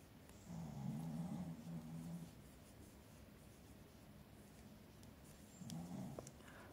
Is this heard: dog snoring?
yes